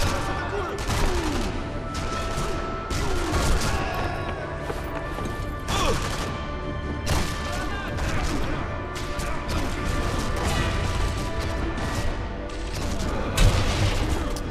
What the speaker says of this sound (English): someone's shooting someone